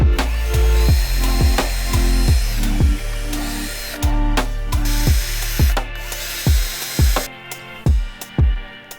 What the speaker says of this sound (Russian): Нам нужно сейчас просверлить отверстие, чтобы бруски не лопнули